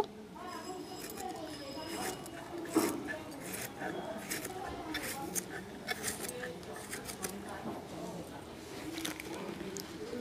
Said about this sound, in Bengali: আমি ভালো করে থোড়টা পুরো কেটে নিয়েছি